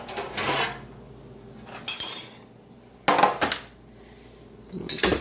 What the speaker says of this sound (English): let's get a baking sheet over here